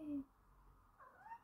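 A house cat gives a couple of faint, quiet meows in a calm indoor room, one short cry at the start and a rising mew near the end.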